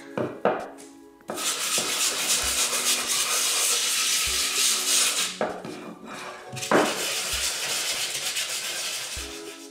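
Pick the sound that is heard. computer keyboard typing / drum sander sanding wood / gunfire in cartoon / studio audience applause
drum sander sanding wood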